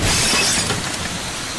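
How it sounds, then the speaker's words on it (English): A layered tsunami effect: an explosive burst of water crashing into a room, loud and dense from the first instant, then a sustained roaring wash that fades slightly over a second and a half. "I layered two separate sound effects in for the tsunami"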